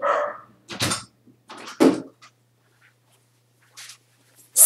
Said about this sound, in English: Such a good guard dog.